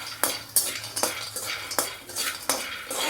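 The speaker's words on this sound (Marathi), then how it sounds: "या बदामला पण आपण चांगलं हलवून घ्यायचं आहे" Almonds being stirred in a pan with a spoon, giving close, irregular scrapes and clinks against the metal at a steady stirring pace, with a faint sizzle underneath.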